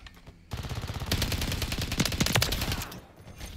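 An STG 44 in a video game fires sustained rapid automatic bursts for about two and a half seconds, loud and close, then stops.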